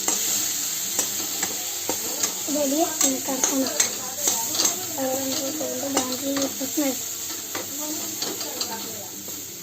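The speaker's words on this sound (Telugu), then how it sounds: "సాస్ వేసుకొని ఇప్పుడు దాన్ని మిక్స్ చేద్దాం" Sauce being stirred into bread chilli in a pan, with a steady spoon-against-pan scraping and soft sizzle close by, rhythmic clinks of utensil on metal throughout, no voices.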